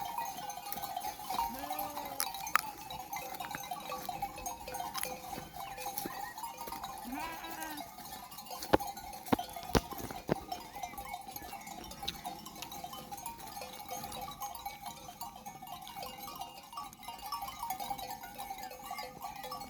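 A flock of sheep and goats mills about after feeding in a village setting, with scattered bleats, a few distant calls and occasional sharp clanks over a steady outdoor background.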